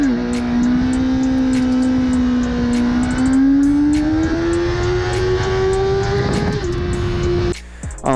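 A 2005 Kawasaki Ninja ZX10R sport bike engine revs up close and loud, its pitch climbing steadily over several seconds before dropping back to idle with a sputter.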